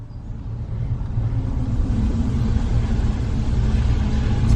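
Car driving slowly along narrow, winding country lanes near Ilfracombe in Devon, giving a steady low engine rumble and road noise from inside the cabin, constant and moderately loud throughout.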